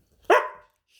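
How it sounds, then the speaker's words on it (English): A single sharp dog bark rings out close by, then fades, with quiet before and after. "Sorry about the dog."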